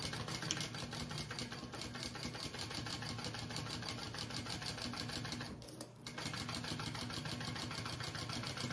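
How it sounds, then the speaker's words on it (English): A sewing machine stitches bag pieces together at the top seam, a fast steady mechanical whir with rapid needle rhythm, close and continuous, pausing briefly about two-thirds through before running on. "so we're gonna sew those two together at the top"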